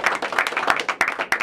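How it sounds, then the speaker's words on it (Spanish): Loud crowd applause honouring soldiers and fallen heroes, dense rapid clapping with sharper individual claps standing out, close and continuous. "Un aplauso para nuestros valientes guerreros y para nuestros héroes caídos."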